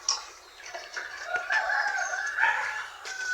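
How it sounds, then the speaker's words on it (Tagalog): A backyard rooster crows loudly and close by, with hens clucking softly around it, the crow stretching across most of the three seconds. "Ito yung barako natin mga kabrad."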